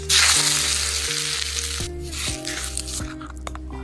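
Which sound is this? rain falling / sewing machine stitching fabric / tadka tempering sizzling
tadka tempering sizzling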